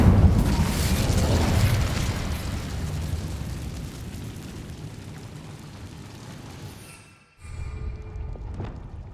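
Incendio fire spell cast in the Hogwarts Legacy video game, a loud roaring burst of flame that rumbles steadily for several seconds, cuts to near silence, then a fresh crackling flare rises again.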